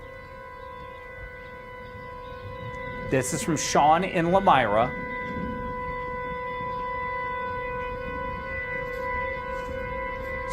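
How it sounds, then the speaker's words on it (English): Tornado warning sirens wail with sustained steady tones in the northern part of the FOX6 viewing area, heard from a distance throughout, while someone briefly speaks over them. "The sirens on there."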